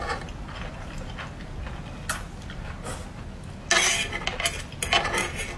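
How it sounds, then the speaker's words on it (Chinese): Dishes and cutlery being washed clatter close by, with occasional sharp clinks and scrapes over a low running-water wash. "你刷盘子啊。"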